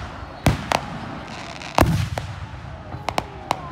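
Independence Day fireworks go off in a park, with several sharp bangs and crackling bursts at mid distance, the loudest near the start and middle and smaller pops toward the end.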